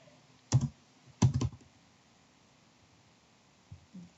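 A few keystrokes on a computer keyboard, two short clusters of clicks close to the mic followed by a couple of softer taps, with quiet pauses in between.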